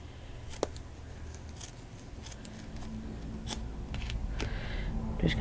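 Scissors cut a section of material for an altered ballerina craft, with sharp close snips and small scraping handling sounds scattered across a quiet room.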